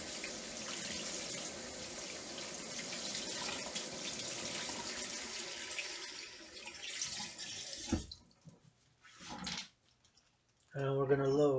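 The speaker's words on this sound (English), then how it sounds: "Some wild grapes, and we're gonna wash." Wild grapes harvested in Montreal are washed under a running tap, a steady close rush of water into a sink for about eight seconds, then breaking into sporadic splashes and trickles with brief pauses before a final burst of flow.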